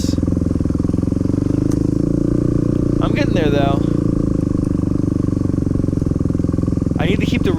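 Dirt bike motorcycle engine running loud and steady throughout while riding over obstacles, with a rider talking over the constant engine drone.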